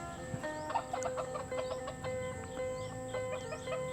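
A hen at a Thai family home where eggs are being hatched gives a run of soft, repeated clucks, close by over a steady background hum, with no talking.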